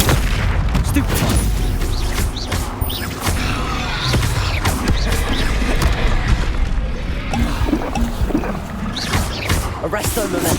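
Rapid spell-combat explosions and magical blasts from Hogwarts Legacy, loud bursts and booms firing in quick succession throughout a hectic battle, with a voice shouting incantations over the barrage.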